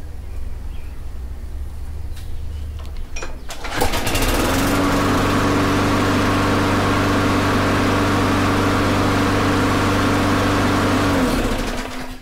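A lawn mower engine, due for a carburetor cleaning and run near full throttle, starts after a few seconds of background noise, then holds a loud, steady, close drone before easing off at the very end.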